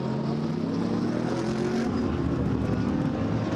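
A GT3 race car at Oschersleben leaves the pit lane with a loud, continuous engine roar that fills the whole clip, without speech.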